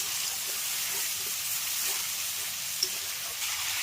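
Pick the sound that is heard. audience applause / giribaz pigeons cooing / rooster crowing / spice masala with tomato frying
spice masala with tomato frying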